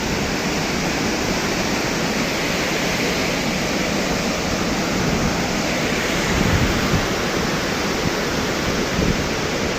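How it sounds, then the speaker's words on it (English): Thomson's Falls, a 74-metre waterfall at Nyahururu in Kenya, thunders in a loud, dense, unbroken roar of crashing water that holds steady throughout. "the thundering water is impressing."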